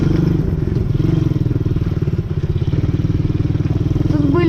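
A quad bike engine while riding in a spring forest, a steady pulsing putter that stays loud and close throughout, with a voice talking briefly over it.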